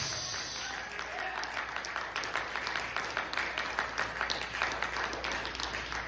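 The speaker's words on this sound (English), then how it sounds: "Let's clap our hands unto Jesus." Congregation clapping hands together during a church worship service, a steady rhythmic patter of many hands filling the room, with some voices mixed in underneath.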